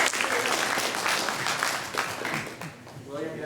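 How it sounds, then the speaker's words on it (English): An audience claps for a man who has just played the bones at a folk song performance, a dense burst of applause that thins toward the end as a voice starts speaking. "How about a nice round of applause?"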